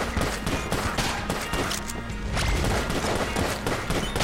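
Continuous gunfire from shadow bullets in Enter the Gungeon, a busy stream of rapid shots and impacts that stays loud and steady throughout without any talk.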